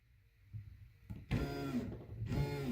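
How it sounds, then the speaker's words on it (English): A Somfy RTS motorized shade motor jogs twice during programming, giving two short whirring motor bursts close by in a quiet room. "The motor will jog."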